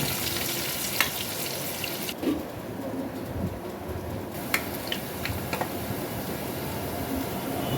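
Onion, garlic, cumin, bay leaf and garam masala fry in oil for an egg curry, a steady, close hiss of sizzling with a few sharp clicks and pops along the way.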